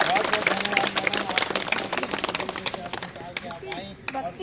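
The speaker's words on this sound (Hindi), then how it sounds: "और एक बार पुनः मैडम के लिए एक बार जोरदार ताली बजाइए।" Audience in an outdoor garden at a Yoga Day celebration claps, a dense burst of applause with crowd murmur running steadily through the whole stretch.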